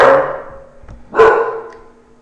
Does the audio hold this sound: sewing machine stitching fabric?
no